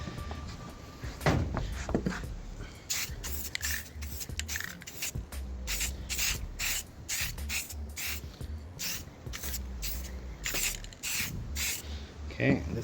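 Repeated bursts of aerosol spray paint coat a front bumper lip, a steady run of hissy sprays, some short and some longer, close and fairly loud with brief pauses between passes and no talking.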